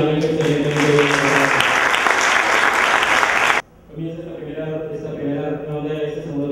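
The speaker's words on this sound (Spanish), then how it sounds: "Nuevamente un fuerte aplauso para los tres" Loud applause from a crowd at a citizen debate competition final fills the first few seconds, then cuts off abruptly as a voice begins speaking over quieter room sound.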